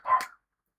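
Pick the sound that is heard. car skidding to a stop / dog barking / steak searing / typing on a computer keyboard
dog barking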